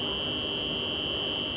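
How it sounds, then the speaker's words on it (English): Solar panel system with electric current running from junction boxes to an inverter, heard as a steady loud high-pitched whine over a constant broadband whirr, unbroken and close. "that is the sound of the electric current moving from the junction boxes to the inverter"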